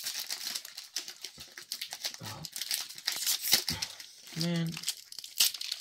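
Lorcana Floodborn trading card booster packs torn open, with close crinkly foil tearing and rustling bursts, punctuated by a man's brief spoken remarks.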